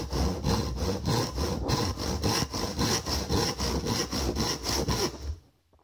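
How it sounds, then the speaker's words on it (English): Hand saw cutting through wood for a DIY joystick mount, a close, loud rhythmic rasp of roughly two strokes per second that stops abruptly near the end. "so let the sawing begin."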